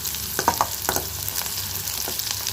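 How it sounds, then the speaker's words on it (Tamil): Banana stem kootu with green chillies sautéing in a pan, a soft continuous sizzle broken by a few spatula scrapes and taps, close and moderate, no speech. "இப்போ இது நல்லா வதங்கிட்டோம்"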